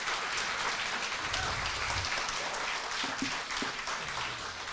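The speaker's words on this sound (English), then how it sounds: "May we have a round of applause again for Justice Carpio." Lecture audience applauding for Justice Carpio, a soft, distant wash of clapping hands that continues evenly throughout, faint and noisy like light rain.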